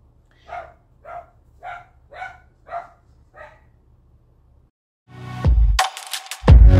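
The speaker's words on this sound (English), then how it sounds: "He could bark up to like an hour" A dog barks six times in an even rhythm at moderate distance, followed by louder, harsher close-up noise, with no one talking.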